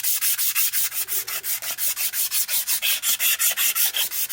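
Emery cloth rubbed briskly back and forth over a shaft where a failed bearing was removed, about twenty steady rasping strokes close up, even in rhythm and loud with no talk.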